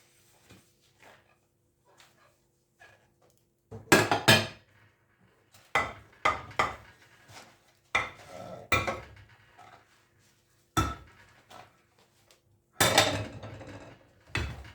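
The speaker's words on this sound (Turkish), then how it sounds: "zor da olmuyor bulaşık yıkamak." Intermittent clatter of dishes and utensils being hand-washed and rinsed, with bursts of clinking at close range between quieter pauses.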